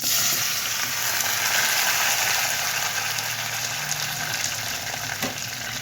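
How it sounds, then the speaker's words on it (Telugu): Chopped eggplant pieces frying in a hot tempering with curry leaves for an eggplant gongura curry: a loud, dense, continuous sizzle close by. "ఇప్పుడు తరిగి పెట్టుకున్న వంకాయ ముక్కల్ని వేసుకుందాము"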